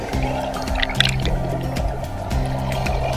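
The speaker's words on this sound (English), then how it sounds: "Hook and release eStream into running water." eStream portable water turbine spinning in running water, steady liquid gurgling and splashing with a tonal mechanical hum that rises and falls in repeated segments.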